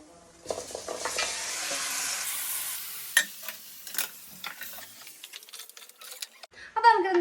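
Cooked tapioca being stirred into a masala in a pan, with soft sizzling and repeated spatula scrapes and knocks against the metal, close and uneven, while a voice speaks at times.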